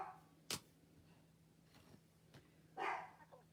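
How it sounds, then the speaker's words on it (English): A dog barks indoors, a few faint, short, separate woofs at a distance, with quiet room tone between them. "That would be my dog."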